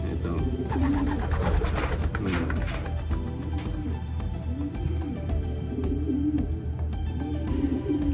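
Soft, low homing pigeon coos repeat in slow, rolling phrases over a steady background hum, with a few faint taps and rustles early on.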